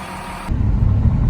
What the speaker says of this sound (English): Oh, that's a fire truck.